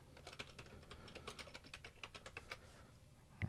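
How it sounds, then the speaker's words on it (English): Fingers tap quickly across a computer keyboard while a password is entered, a quiet, close, irregular run of light key clicks with no voices. "And I'm going to type in the password."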